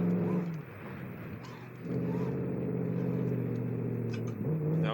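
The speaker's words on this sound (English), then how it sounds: "Now this is a pickup truck." A 1950s pickup truck's engine drives in the BeamNG video game, a steady mid-pitched hum with a brief dip and a low drone, close and continuous.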